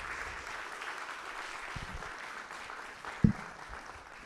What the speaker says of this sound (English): one additional round of applause for all of our Innovators in Residence